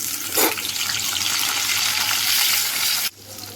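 Tomatoes dropped into a spice paste of green chilli, garlic and onion frying in a pan, a loud, close burst of hissing sizzle that runs for about three seconds before cutting sharply to a quieter simmer.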